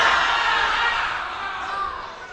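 Supporters of a candidate pair at a regency head election debate in Pasaman shout together in a hall, a loud, sustained crowd roar that swells and fades slightly over a couple of seconds.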